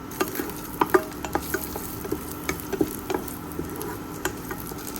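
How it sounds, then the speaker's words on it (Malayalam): Dried red chillies and garlic being stirred in a pan during hostel-room cooking: a light oil sizzle runs underneath while a spoon scrapes and taps the pan in irregular clicks, close and fairly quiet. "ഇനി നമുക്ക് ഇതിലേക്ക് കുറച്ച് വറ്റൽമുളകും പിന്നെ വെളുത്തുള്ളി കൂടി ആഡ് ചെയ്യാം. ഇത് ഇളക്കി കൊടുക്കാം."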